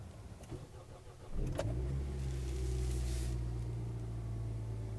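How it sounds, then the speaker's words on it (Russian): A 2014 Kia Rio with an automatic gearbox is started in -17°C cold: a brief crank catches after about a second and settles into a steady, low idle rumble. "Запуск двигателя Kia Rio 2014 года выпуска, коробка автомат."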